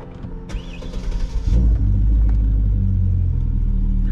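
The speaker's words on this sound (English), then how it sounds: "All we gotta do is just start the car now to make sure it is starting and running properly" A 2009-2014 Hyundai Genesis starts up after a battery replacement: a short, busy crank with clicks, then the engine catches into a loud, steady low rumble that carries on to the end.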